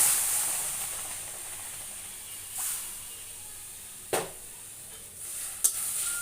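Spice water poured into chicken curry cooking without oil, with papaya, gives a soft, steady sizzle and hiss, broken by a few light clinks and stirring scrapes, faint and close with no voices.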